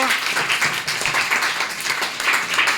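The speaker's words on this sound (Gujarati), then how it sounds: "ચલો ત્રણે ત્રણ ટીમના કેપ્ટન માટે જોરદાર તાળીઓ" Dense, steady applause from a group honoring the captains of three teams after a balloon-tossing and cup-flipping party game, sustained evenly from start to finish with no clear voices.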